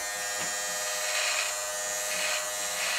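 Steady electric razor buzz trimming a beard, close and continuous, with slight rises and dips in intensity across the strokes.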